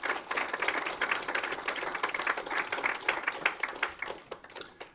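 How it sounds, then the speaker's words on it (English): Audience applause at a ward election hustings in Armley, a dense patter of many hands clapping at moderate distance, sustained throughout and tapering slightly at the end. "So a round of applause for Lou."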